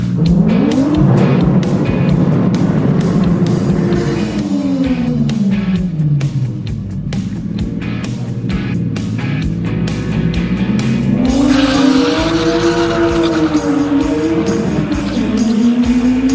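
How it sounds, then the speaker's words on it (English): A hot rod doing a burnout at a drag strip, engine roaring loudly and continuously with rising and falling revs as the rear wheels spin, close by and dominating. "Apparently my burnout wasn't long enough."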